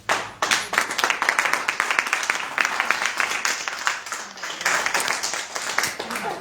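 An audience at a Modicare consumer event claps loudly and steadily for several seconds, a dense close-up burst of many hands.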